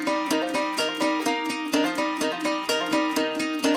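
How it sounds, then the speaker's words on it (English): Resonator guitar and banjo play together in a pop country arrangement, bright plucked notes in a quick rolling pattern, close and moderately loud with no voices. "I added this resonator and this banjo."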